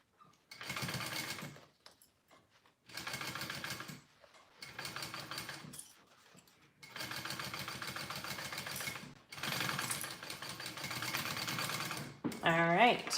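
A sewing machine stitches slippery vinyl for a dragon sling in several close, steady bursts of rapid mechanical whirring, separated by short pauses, with a final burst at the end.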